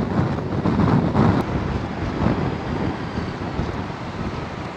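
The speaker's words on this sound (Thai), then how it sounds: "นี่ลมแรงมากเลยนะ" Strong headwind buffets the rider of a Honda Forza 300 scooter on the road, a steady loud roaring rush of wind noise over the microphone with no talking.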